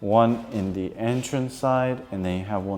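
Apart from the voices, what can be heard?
No distinct noise like a dog, phone or traffic.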